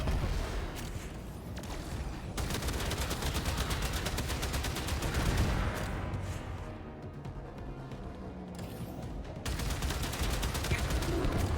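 Dense, rapid gunfire rattles almost continuously in Warframe, loud bursts of shots with a brief lull in the middle before the firing resumes at full intensity, and no talk.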